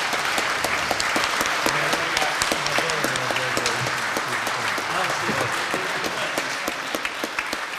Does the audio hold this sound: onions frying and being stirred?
no